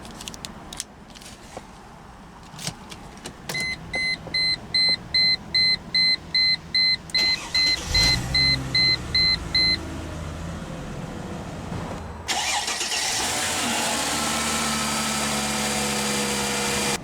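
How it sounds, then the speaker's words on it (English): A 2005 Chrysler Crossfire Limited Roadster, a two-seat rear-wheel-drive sports car, chimes with a run of steady beeps before the engine cranks, catches with a loud rise and settles into a close, continuous idle. "Now that we're behind the wheel, let's go ahead and start the engine."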